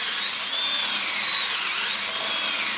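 A power drill bores a hole beside pipe conduit with a steady high whine, close and loud, that dips slightly in pitch as the bit bites in, continuous with no talk.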